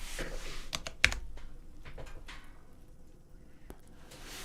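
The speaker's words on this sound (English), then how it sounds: "If I start typing these, it'll start showing me more about them." A computer keyboard being typed on in short, irregular bursts of close clicks, one sharper keystroke standing out, with no one talking.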